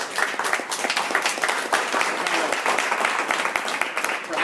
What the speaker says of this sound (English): So I think you guys deserve, a big round of applause to yourselves